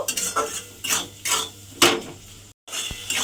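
A spatula scraping and stirring spices in a metal pan while they are fried down with sugar for a Bengali pui shak dish, with repeated rhythmic clinks and scrapes, a brief pause, and one sharp knock.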